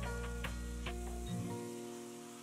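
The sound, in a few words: stir-frying diced red pepper in a pan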